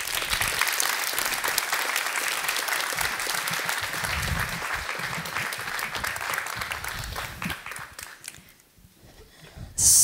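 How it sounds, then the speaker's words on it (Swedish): An audience applauds entrepreneurs walking onto the stage at a startup event, a dense, steady round of clapping that fades after about eight seconds, with faint voices under it. "Välkomna upp med en applåd."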